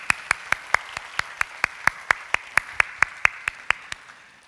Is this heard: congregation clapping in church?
yes